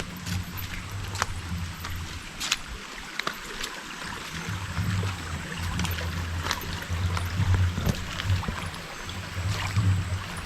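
A small village stream in the Konkan, running low after light rain, flows with a steady, soft rushing and gurgling, continuous and fairly close with no voices.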